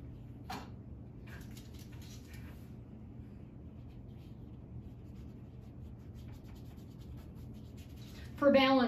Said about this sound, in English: I'm going to scrub in the areas that are dark with that dark value.